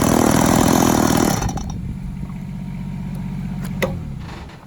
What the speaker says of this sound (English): I saved the palm tree for last to cut because it's fibrous and it'll clog my chainsaw up